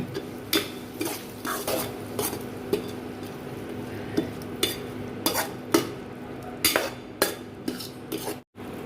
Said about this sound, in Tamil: நல்லா சுண்டை வதக்கி எண்ணெய் பிரிகிற அளவுக்கு நல்லா வதக்கி எடுத்துக்கிடுங்க